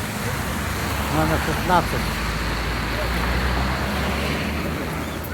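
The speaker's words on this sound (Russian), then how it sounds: "О, автобус наш подъехал." City bus number 16 pulling up on a Yakutsk street at minus 45 degrees, a low engine rumble with traffic noise and a brief brake squeal, a person speaking briefly over it.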